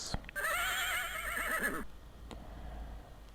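A horse whinnies in the video game King's Quest II, a loud, wavering neigh of about a second and a half with no talk over it, followed by quieter background sounds.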